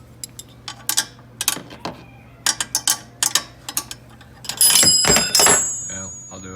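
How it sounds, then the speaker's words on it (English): A ratcheting 13mm socket wrench clicks in short, sharp bursts while tightening seat riser bolts on a 2020 Can-Am X3 Max, close-up, with brief pauses and a louder clattering stretch near the end. "to tighten up these ones, you'll need a 13mm socket"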